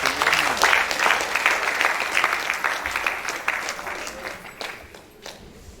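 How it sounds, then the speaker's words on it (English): Sustained audience applause at a university valedictory lecture, a dense, steady wash of clapping from a large hall that slowly fades out over several seconds. "Please give him a round of applause."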